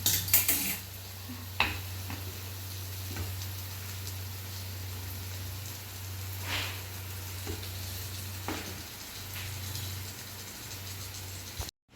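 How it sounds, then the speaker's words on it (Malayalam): Shrimp added to sautéed tomato and frying in a pan for a shrimp roast, giving a steady close sizzle with a few soft utensil scrapes over a low hum, and no voices. "തക്കാളി നന്നായി വഴറ്റിയതിന് ശേഷം അതിലേക്ക് നമ്മൾ നേരാക്കി വെച്ച ചെമ്മീൻ അതിലേക്ക് ഇടാവുന്നതാണ്"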